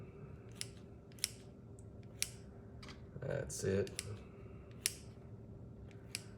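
Kitchen scissors snip through a breakfast casserole. The sharp, crisp cuts come about once a second and are close and fairly quiet, and a voice speaks briefly partway through.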